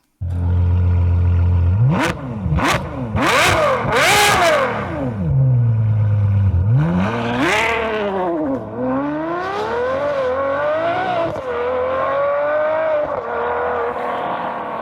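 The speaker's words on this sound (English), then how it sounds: "just so you can hear this epic exhaust system" A Ferrari sports car engine revs hard several times in quick bursts, then settles into a loud rising and falling exhaust roar, close by and continuous.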